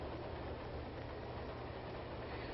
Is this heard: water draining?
no